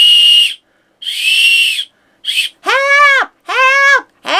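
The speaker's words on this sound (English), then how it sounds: "My London Bobby whistle." A brass London Bobby police whistle gives five loud, close blasts. The first are breathy and hissing, and the last two are shrill and warbling, with short gaps between them.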